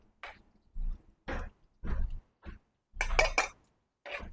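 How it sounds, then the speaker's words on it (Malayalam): Spoon stirring crab roast masala with pepper, turmeric and Kashmiri chili powder in a pan in a Kerala kitchen: a series of separate scraping, clinking strokes with short quiet gaps between them, close and clear. "നല്ലപോലെ ഇളക്കി കൊടുക്കുക."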